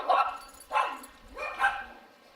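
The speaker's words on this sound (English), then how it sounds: "that was my neighbor's dogs barking at my dog" Neighbor's dogs barking, three distinct barks spaced roughly evenly apart, moderately near and clear against an otherwise quiet background.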